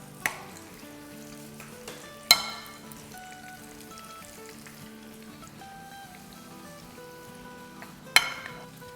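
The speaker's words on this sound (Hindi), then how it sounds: "तो बस इसे हम फ्राई करेंगे जब तक कि एक साइड थोड़ी सी सुनहरी ना हो जाए" Aloo kababs frying quietly in a pan, a soft steady sizzle with a few sharp clinks or taps standing out.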